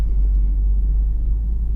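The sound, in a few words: Lexus IS F 2UR-GSE V8 at full throttle, intake opening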